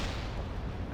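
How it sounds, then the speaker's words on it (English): A World in Conflict battlefield explosion rolls out as a deep, booming rumble, filling the moment with heavy low-end roar and no speech over it. "Oh man, that explosion's great."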